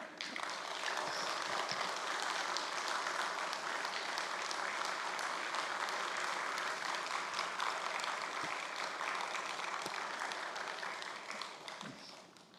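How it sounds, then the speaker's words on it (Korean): A church congregation at a Wednesday prayer service in Yeosu claps in a long, sustained roar of applause to welcome an elder to the front, fading only in the final moments. "우리 김성국 장로님 나오실 때 큰 박수로 환영하겠습니다."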